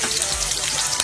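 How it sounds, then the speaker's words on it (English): Onions frying in a saucepan for a Ghanaian kidney kebab, giving a close, steady sizzle with fine crackling throughout, heard alone without talk. "just put my onions into the saucepan"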